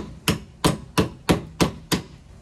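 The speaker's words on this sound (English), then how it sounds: "Let's try and use the hammer to put these pieces together." A 3D-printed plastic hammer strikes pieces six times in a steady rhythm, each a sharp, close knock with no talking.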